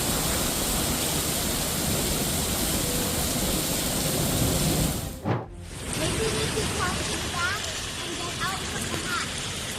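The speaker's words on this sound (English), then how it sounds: "Waves of water poured into South Texas after torrential rain on March 29th, turning roads into rushing rivers" Torrential rain and rushing floodwater on roads in South Texas produce a dense, continuous roar of water that briefly drops out and then resumes.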